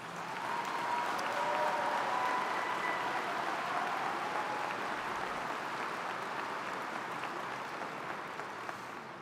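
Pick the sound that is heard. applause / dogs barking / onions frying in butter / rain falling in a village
applause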